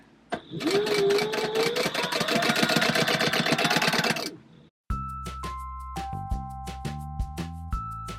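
A sewing machine stitches a trunk purse with a rapid, even mechanical chatter for about four seconds before stopping, followed by a different section of sharp clicks and steady tones, with no talk heard.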